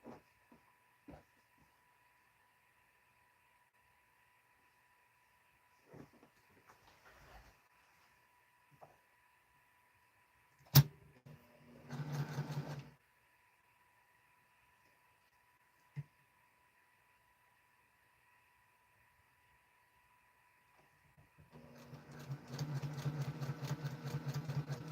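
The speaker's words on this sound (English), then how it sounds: "I'll sew another one together." A sewing machine stitching small quilt pieces together runs in a brief burst, then stops, and starts again later in a longer steady whir, with quiet handling clicks and bumps in between.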